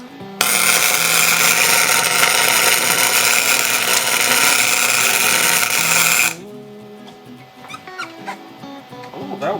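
A flux core welder working on an engine part from a 6.0L auction truck crackles with a loud, continuous buzzing hiss for about six seconds, then stops abruptly, followed by quieter clinks and shuffling.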